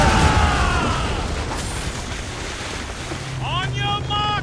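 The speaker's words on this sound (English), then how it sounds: "It's quite a rough squall, Captain." Howling wind and rough, rushing sea batter a sailing ship in a squall in Assassin's Creed Rogue, a steady loud roar with surf washing, brief creaks, and bird-like whistling tones near the end.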